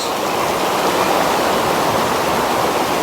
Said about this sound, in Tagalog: Tingnan nyo na waterfalls.